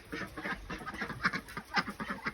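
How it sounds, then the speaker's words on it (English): Ducks quack repeatedly in a rapid, uneven series of nasal calls, close by and fairly loud, with several birds overlapping and no speech. "You dirty ducks."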